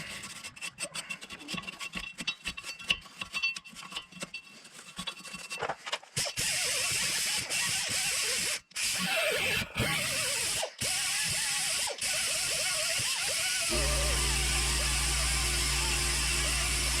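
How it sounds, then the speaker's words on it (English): A wire brush scrubs the rear wheel hub of a 2007-2015 Chevrolet Impala during a brake job, making rapid rough scratching strokes close by, followed by a continuous harsher rasping scrub and a low hum near the end. "I'm just going to kind of clean up this hub as best as I can with a wire brush"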